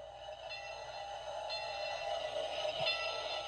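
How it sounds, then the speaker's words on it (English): A train passes a railroad crossing in a steady, continuous rumble with a faint horn-like tone, played as a sound effect that is triggered by a donation. "You get the railroad sound when you make a donation."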